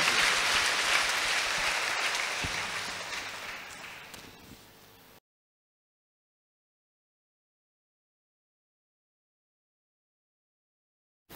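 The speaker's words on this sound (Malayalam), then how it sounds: "കൈ ഉയർത്തി അടിച്ച് ദൈവത്തെ സ്തുതിച്ച്" A church congregation applauds to welcome a priest, dense clapping that is loud at first and gradually fades over about five seconds, followed by silence.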